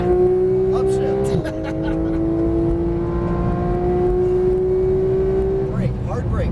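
Porsche 911 GT3 (991) on a racetrack, its engine note rising steadily under hard throttle with a quick shift break, loud and close from inside the car, with a voice speaking over it.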